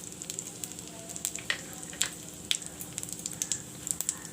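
Cumin and carom seeds sizzle steadily in hot refined oil, a continuous bright crackle with scattered sharper pops throughout, close and fairly loud with no talking.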